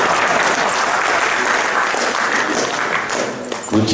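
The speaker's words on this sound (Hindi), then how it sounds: "कुछ तालियां बजाइए" Loud, sustained applause from a large audience at a thinkers' forum event in Sialkot, a thick continuous roar of clapping that eases slightly near the end as a voice begins to come through.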